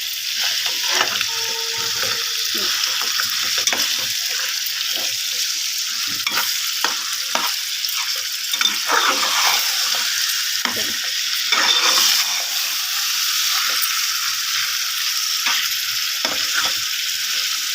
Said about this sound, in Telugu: అడుగు అంటుకోకుండా బాగా కలుపుకుంటూ ఉండాలి ఫ్రెండ్స్